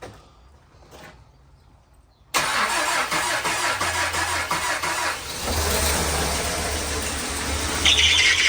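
A Mazda B2600 pickup with an inlet manifold air leak cranks and fires, then settles into a steady close idle that rises slightly toward the end. No one speaks over it.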